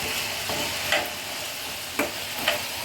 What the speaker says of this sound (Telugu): పొటాటోస్ వేసాక ఒకసారి మిక్స్ చేసుకుందాం.